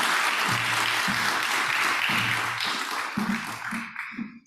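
Applause from a conference audience after opening remarks on AI for urban climate action, steady clapping with a low voice or hum underneath, tapering off at the end.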